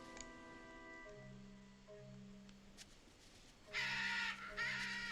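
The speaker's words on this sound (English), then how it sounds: "Oh, these birds are starting to really annoy me." Birds cawing in a video game: a few harsh, raspy crow-like caws repeat over faint game music, with a louder pair of caws near the end.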